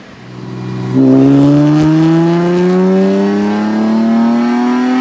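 A Nissan 370Z fitted with headers revs hard on a dyno, the engine note climbing steadily in a loud, sustained pull with strong rising harmonics and no talking.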